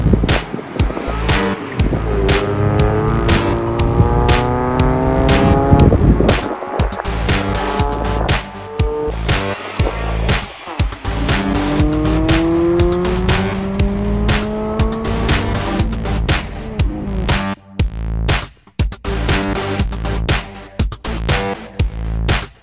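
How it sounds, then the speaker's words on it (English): Autocross race cars run a course in front of a convention center. Engines rise and fall loudly through repeated gear changes and tires squeal as the cars pass close by, with no talking over it. "there's an autocross going on out here in front of the convention center"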